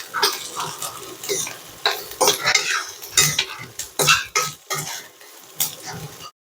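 Jackfruit pieces being sautéed in oil in a pan for a traditional Marathi vegetable dish, with repeated scraping and stirring clatter of a utensil against the pan over a low frying sizzle.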